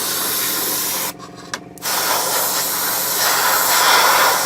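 An airbrush sprays grey primer onto a grey plastic 1/35 scale Takom Chieftain Mk10 tank model at low pressure, giving a steady close hiss that cuts out briefly for under a second and then resumes, with no talk.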